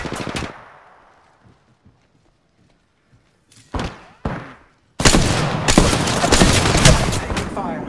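Heavy automatic gunfire in the battle-royale game Apex Legends erupts loud and sustained, preceded by a burst that fades out and a few isolated sharp shots with quiet gaps between.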